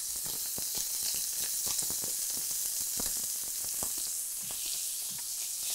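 A pork chop sizzles steadily in a frying pan, a continuous bright hiss dotted with small pops and crackles, close and alone without talk.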